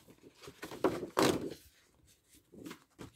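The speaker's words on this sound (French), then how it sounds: "Je coupe déjà mon papier." Vellum paper being cut for a craft pouch: a few soft scraping and thunking strokes, with one sharper burst in the middle, close and fairly quiet in a still room.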